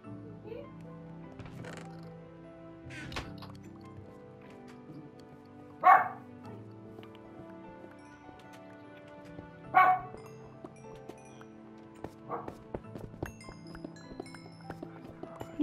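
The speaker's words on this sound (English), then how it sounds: "Doggy!" Dog barking in the video game Minecraft, heard as a few sharp, isolated barks and yips spread over a quiet stretch of game sound with a soft, low background drone.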